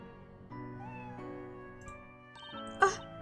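Eve the cat in the video game Professor Layton vs Phoenix Wright gives a single short meow near the end, rising above soft background music.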